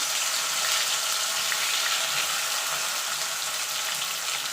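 Okra coated in salt, turmeric and gram flour frying in hot mustard oil, a dense, continuous close sizzle that stays loud and even throughout with no voices.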